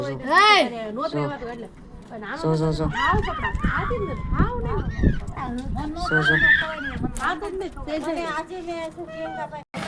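A mare neighs and whinnies in several loud, wavering bursts close by, mixed with lively voices of people talking around her.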